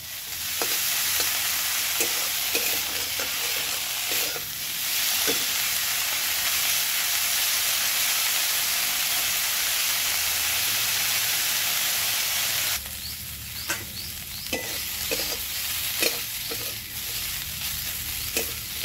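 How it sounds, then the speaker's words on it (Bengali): Prawn heads fry in a pan with a loud, continuous sizzle and hiss, broken by repeated stirring clatter; partway through the sizzle drops slightly and the scraping clicks grow more distinct. "এবার চিংড়ি মাছের মাথাগুলো ভালো করে ভেজে দেবো।"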